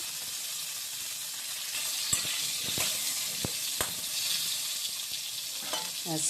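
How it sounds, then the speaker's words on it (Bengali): Pointed gourds (potol) frying in oil in a karahi, a steady close sizzle with a few sharp clicks and taps from utensils against the pan. "এই দেখো পটলগুলো ভাজা হয়ে গেছে"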